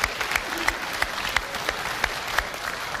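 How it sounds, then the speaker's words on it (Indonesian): Studio audience applause at a 2019 Indonesian presidential debate, a dense, steady clapping from a sizable crowd with a few sharper individual claps standing out, filling the whole stretch without speech. "Boleh tepuk tangan untuk memulai segmen ini?"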